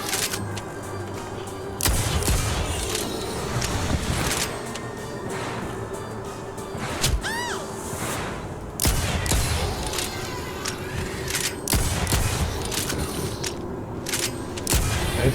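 Shotgun blasts in the video game TimeSplitters Rewind: several loud, booming shots spaced a few seconds apart, layered over busy in-game background noise and a brief rising electronic whine.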